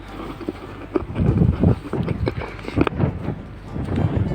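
Wind gusts buffet the microphone outdoors on a building site where concrete posts are being set, producing uneven low rumbling bursts that rise and fall throughout.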